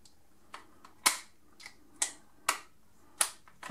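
Pushing the pin back into an ASG CZ P-09 gas blowback airsoft pistol makes several sharp, isolated metallic clicks and snaps, close and crisp, spaced roughly half a second apart against near silence.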